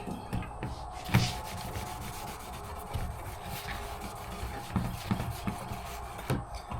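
A rag rubs and scrubs across a black walnut longbow handle blank, wiping it down liberally with acetone; steady close friction strokes with a few sharper knocks, no speech.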